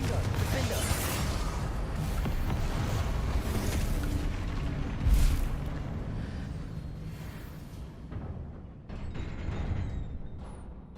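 A Confringo blasting spell detonates in Hogwarts Legacy, a dense rumbling boom with crackling debris that swells, peaks sharply midway, then decays into a lower roar with a few scattered aftershocks.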